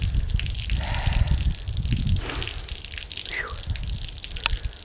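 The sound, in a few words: water flushing through Jaguar MKII front subframe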